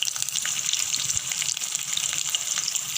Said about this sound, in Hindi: अब धीरे धीरे ये पनीर के क्यूब्स इसमें डाल के फ्राई करेंगे